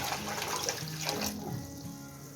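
Water splashes and pours steadily from pitchers into a pot for sabudana papad, a continuous rushing flow that fades slightly toward the end.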